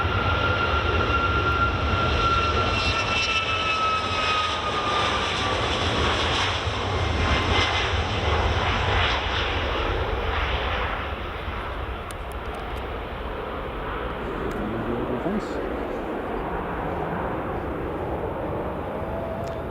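Departing Edinburgh Airport for Alicante, an airliner's engines roar loudly with a high whine that slowly fades and recedes into a softer, distant rumble over about twenty seconds, with no voices over it.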